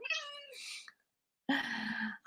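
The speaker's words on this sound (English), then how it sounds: "she is the noisiest, most demanding kitty" A house cat meows twice, close and loud: a drawn-out rising call, a second of silence, then a longer, throatier meow.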